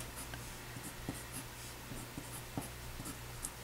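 A pen inks a quick sketch on paper in short, scratchy strokes with a few sharper taps. It is close and quiet, with a steady low hum underneath and no talking.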